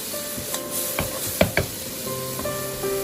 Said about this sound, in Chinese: 加入1小勺食盐，1小勺鸡精，再快速的翻炒均匀